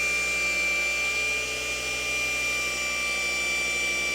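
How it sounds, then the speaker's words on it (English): A car polisher works glaze into paint in a crisscross pattern, giving a steady, close electric whine with a high tonal hum and a slight wavering as it passes back and forth. "Polisher speed is correction speed, 1 inch every second or 2."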